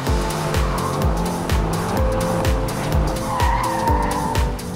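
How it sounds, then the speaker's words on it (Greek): A Mercedes-AMG GT R sports car driven hard on the Bilster Berg race track in northern Germany roars loudly and continuously, its engine note surging and dropping in a rapid repeating rhythm. "Mercedes AMG GTR. Ό,τι κοντινότερο σε αγωνιστικό στο δρόμο. Ακούστε το."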